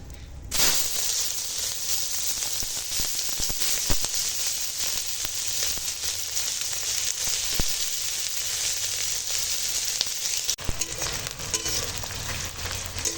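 Chopped onion, green chili and bay leaf fry in hot oil in a pan, giving a steady, close hiss and sizzle that runs throughout, with a few brief clinks of stirring.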